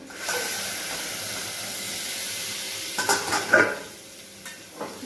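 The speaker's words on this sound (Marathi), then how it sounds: "आता आपण याच्यावरचं झाकण काढून बघूया" A lid comes off a cooking pot of boiled potatoes with a few short metallic clanks and scrapes, heard over a soft, steady kitchen hiss.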